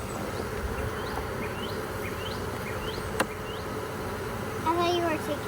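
A queenless honey bee hive gives off a steady, dense buzz close by, with single bees whining past now and then and a voice briefly heard near the end.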